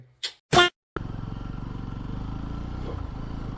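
A motorcycle cold start: a couple of brief clicks and a short whirring crank, a pause, then the engine catches and settles into a steady, close, throbbing idle.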